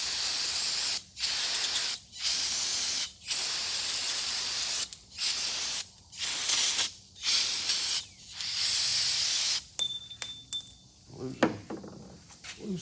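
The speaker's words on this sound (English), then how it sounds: "That's a can of brake cleaner" A can of brake cleaner hisses in repeated sharp bursts with brief pauses between them, sprayed on race car engine parts, followed by some metallic clinking and handling noise.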